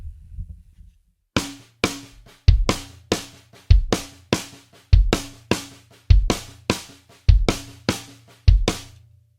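A drum kit plays a repeating right-left-left-kick pattern of hand strokes and kick drum at a steady moderate tempo, close and clear after a brief quiet start.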